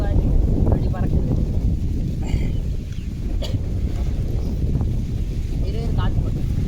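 Heavy wind buffets a trekking tent outdoors, a loud continuous roar with gusty rumbling close to the microphone, while someone speaks briefly over it.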